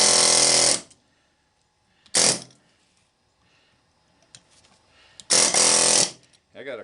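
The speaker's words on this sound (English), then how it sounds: "Craftsman air hammer here" Loud bursts of a Craftsman pneumatic air hammer chiseling into an electric motor, three separate blasts of harsh rattling with quiet pauses between them.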